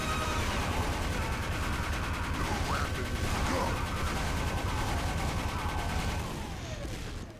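A weapon in Team Fortress 2 firing repeatedly, a steady stream of loud rapid shots with some crashes, tapering off near the end, no voices over it.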